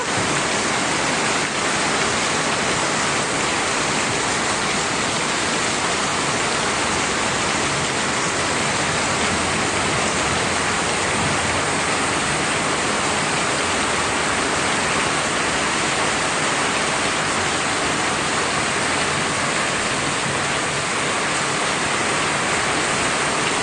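Heavy rain pours down in a steady, dense roar throughout, with water coming into a house; loud, continuous and unbroken, with no voices.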